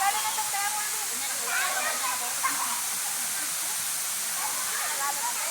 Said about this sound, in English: What a waterfall.